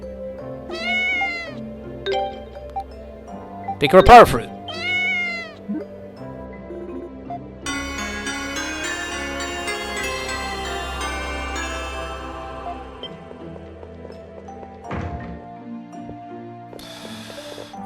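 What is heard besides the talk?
cat meowing in video game Ys IV: Memories of Celceta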